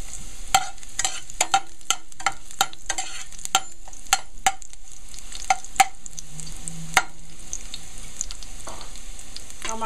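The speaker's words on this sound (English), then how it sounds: "I'm gonna fry this off sharp a little." Saltfish and garlic frying in hot oil, a loud steady sizzle punctuated by a dozen sharp utensil clacks against the pan, no talk.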